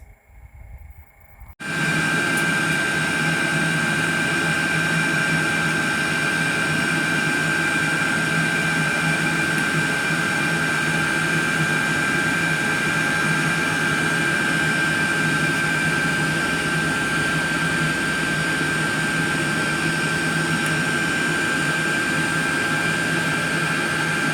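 A shuttle bus heater with a glow plug and pump runs as a loud, steady, continuous roar with a fixed tonal whine, starting after a short quiet moment and going on unchanged.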